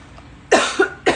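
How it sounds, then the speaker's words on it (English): Two sharp coughs close by, a harsh double hack followed by a single bark-like cough after a short pause. "This cough is going to be the death of me."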